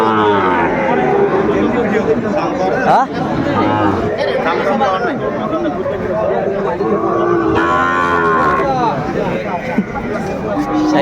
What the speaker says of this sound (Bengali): আমরা দেখছিলাম এখানে দুইটা চমৎকার বাচ্চা শাহিওয়ালার